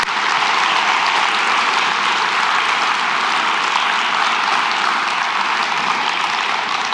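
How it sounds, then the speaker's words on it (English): A church congregation claps at a family Sunday service, dense and even applause filling the room at a steady level throughout with no voices standing out. "you can clap for them."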